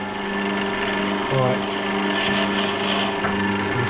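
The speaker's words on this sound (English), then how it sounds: "You see that's drilling." Hand-cranked drill bit boring into an olive log, a steady grinding and whirring with a faint tonal hum throughout, close and continuous, with a brief spoken word over it.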